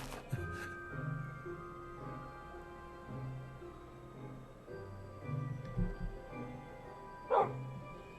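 A zombie dog in a video game barks in a sharp opening burst, then goes on with scattered whimpers and yips over a steady tonal game hum, closing with another loud bark, with no talk.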